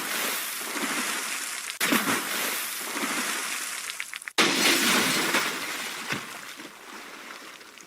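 An audio-drama sound effect of ships being smashed: loud, sustained crashing and splintering with sharp breaking bursts and watery washes. Two heavy impacts punctuate the din.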